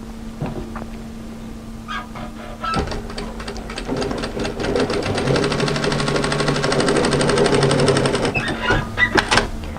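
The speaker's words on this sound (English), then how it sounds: "sew from the back through the line of overlocking from side to side, and I don't need to back tack" A sewing machine runs through the overlocked line of a dolman batwing top in a fast, steady stitching whir, close and loud, after a few short starts and clicks at the beginning.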